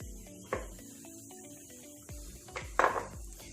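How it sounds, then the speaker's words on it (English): A spoon knocks and scrapes against a pot while kulth dal (horse gram lentils) with peanuts is stirred, giving a few distinct clinks and taps over a quiet kitchen background. "you just give a good stir so that the whole peanuts flavor get infused in the lentil"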